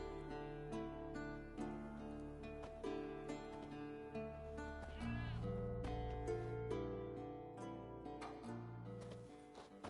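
A goat tied to a stake as forktail bait in The Witcher 3 bleats repeatedly over a dense, busy backdrop of game music and ambience.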